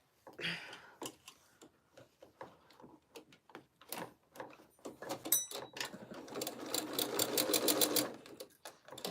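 A sewing machine stitches fabric for a small snowman craft in short bursts of rapid ticking, then a longer continuous run, close and clear with no talking.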